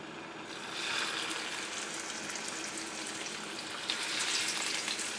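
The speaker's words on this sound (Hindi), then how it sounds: "ऑयल हमारा गर्म हो चुका है। अब इसमें हम ये कबाब डालते जाएंगे।" Chicken gilafi kebabs shallow fry in hot oil, giving a steady, close sizzle with a bright crackling hiss that swells a little midway and again near the end.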